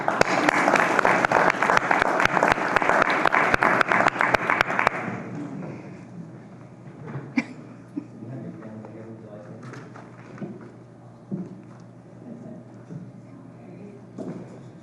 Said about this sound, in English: So we'll give a round of applause to Taylor George.